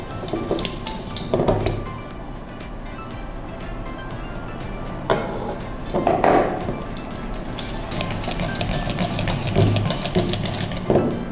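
Cream cheese, icing sugar and melted butter being stirred together in a bowl for a red velvet cheesecake, giving a steady run of soft scraping and clinking against the bowl, with a few louder knocks scattered through.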